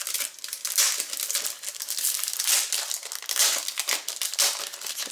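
Plastic packaging around 8.5 by 11 inch PET sublimation film is handled and opened, giving close, continuous crinkling and rustling in irregular bursts.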